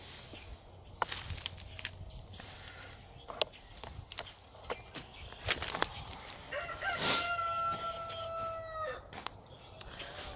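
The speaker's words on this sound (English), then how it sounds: "I usually have 2 roosters out here." A homestead rooster crows outdoors near the end, a clear harmonic call lasting a couple of seconds, with scattered clucks, footsteps and rustling farmyard activity beforehand.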